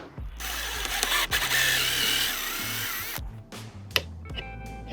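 A drill with a dowel-cutting bit bores into wood with a loud, close, rough whirring grind for about three seconds, then stops, followed by a few knocks and clatters.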